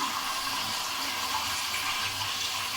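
Water trickling into a garlic-ginger paste while chicken biryani cooks, a steady broadband pouring hiss running through the whole stretch with no voices over it.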